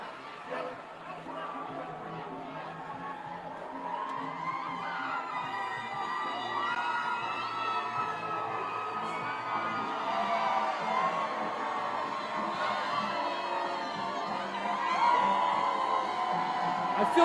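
A dense crowd packed along Ocean Drive at the Jason Kelce Beach Bash, an Eagles Autism Foundation fundraiser, keeps up a steady roar of cheering and shouting, with scattered voices and whoops rising slightly toward the end.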